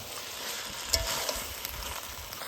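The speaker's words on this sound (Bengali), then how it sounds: "এবার সজনা পাতার বাটার সঙ্গে মাছখান কিন্তু ভালো করে কষে নিব" Fish being stir-fried in a paste of ground drumstick leaves gives a soft, even sizzle, with a few light scraping knocks as it is turned in the pan.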